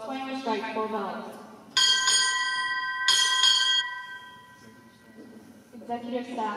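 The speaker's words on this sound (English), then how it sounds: "Boatswain will strike four bells." Four bell strikes ring out in two paired doubles during a naval JROTC ceremony, each clear metallic tone hanging and ringing on, with voices announcing arrivals before and after.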